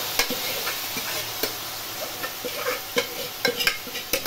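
Grated carrots tipped into hot melted ghee for gajar halwa sizzle and crackle steadily, with repeated sharp ticks and scrapes of stirring close by, no talking.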